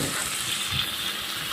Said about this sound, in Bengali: আলুগুলো ভেজে নেব এবার আমি।